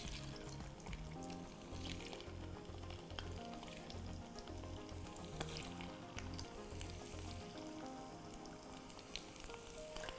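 Chicken pieces frying in oil for chicken chilli dry, a faint but dense and continuous sizzle that crackles evenly throughout without any talking.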